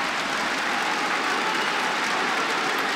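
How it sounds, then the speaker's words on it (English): The crowd at a Rainbow Six Pro League esports grand final cheers and applauds in a dense, steady roar that fills the whole stretch without letting up. "just listen to that crowd"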